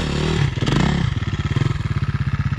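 An enduro motorcycle revs hard while climbing a steep hill in an open-pit mine, a loud close roar that settles into a fast, pulsing engine chug.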